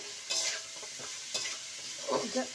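Jackfruit seeds stirred and sizzling in a hot pan, with scraping spatula strokes over a steady frying hiss, close and fairly quiet.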